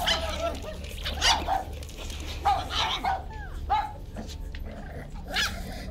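A dog in the Marvel's Guardians of the Galaxy video game barks and yips repeatedly in an irregular run, fairly close, amid game ambience and a low rumble.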